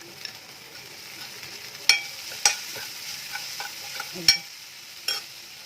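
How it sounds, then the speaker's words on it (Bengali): Onions and curry leaves frying in a pan for masala dosa filling, a soft steady sizzle with scattered stirring clicks and a few sharper scrapes of the spatula against the pan, close and fairly quiet, with no talk. "এগুলোকে এখন ভালো করে আগে একটুখানি ফ্রাই করে নিচ্ছি আমি"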